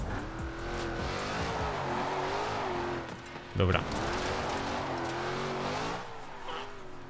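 A car drifts in the racing game Forza Horizon 4, its steady revving engine droning with shifting pitch as the tires squeal, and a brief voice speaks once partway through.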